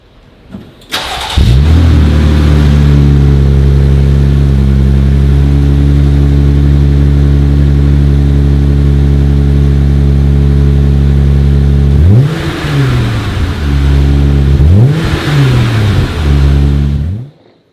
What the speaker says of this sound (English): the Magnaflow catback exhaust is installed now, and definitely a little bit different sound